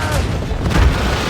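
Ship cannons fire in a naval battle in the video game Assassin's Creed Rogue, producing heavy, rumbling booms that roll over each other at close range, mixed with shouting voices and battle noise.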